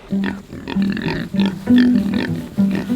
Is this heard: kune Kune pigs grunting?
yes